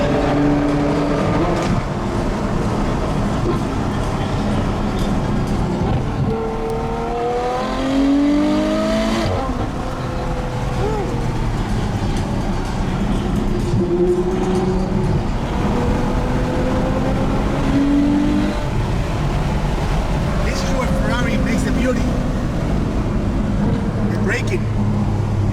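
A Ferrari 812 Superfast Mansory with 830 hp drives on a race track, its engine note rising and falling through gear changes at close range beneath almost constant talking.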